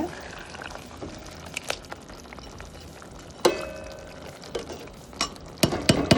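Rice is stirred into a pot of vegetable biryani with a spoon, giving scattered scrapes and soft clinks against the pot. A quiet wet background runs beneath them, with a sharper knock partway through and a cluster of taps at the end.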